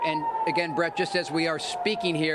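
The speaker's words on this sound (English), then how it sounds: "You can hear there are more sirens right now in Tel Aviv." Air raid sirens wail across Tel Aviv amid incoming missile fire, a steady tone running beneath a reporter speaking throughout.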